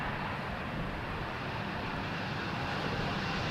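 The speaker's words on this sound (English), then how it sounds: "there was an Embraer landing here" A jet airliner, an Embraer, lands at Amsterdam Schiphol airport on a windy day, its engine noise a steady broadband roar holding constant throughout, loud and near with no voices.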